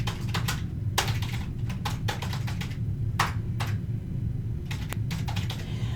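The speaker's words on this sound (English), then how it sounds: "So you would type in their Bishi email" An email address is typed on a computer keyboard in quick, irregular bursts of crisp key clicks, close and clear, with short pauses between runs of keystrokes and no speech.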